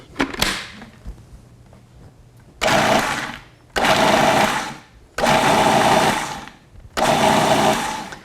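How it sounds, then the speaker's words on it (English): A blender pulses sea asparagus pesto in short loud bursts, about five whirring spurts separated by brief pauses, close and with no talk. "I'm gonna pulse it a couple times first."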